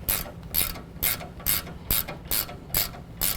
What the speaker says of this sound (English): we're going to tighten that down to 45 foot-pounds